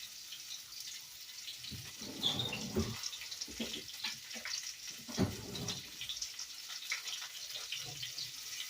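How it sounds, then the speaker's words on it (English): Sweet potato fries frying in oil in a skillet, a steady soft sizzling hiss with a few louder crackling bursts, heard up close with no talk. "Just let it simmer in the oil like so."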